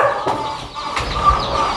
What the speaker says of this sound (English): Yeah, that black giant chicken.